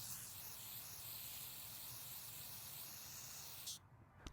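Carb cleaner sprays in one steady, close hiss onto the carburetor screen of a Bolens BL100 string trimmer, running without a break for nearly four seconds before cutting off abruptly.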